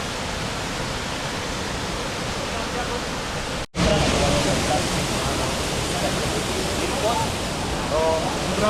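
Baranas Falls on the River Tugnaw at Mt. Hilong Hilong pours in a loud, steady roar that fills the whole clip, with a brief cut near the middle and faint voices underneath.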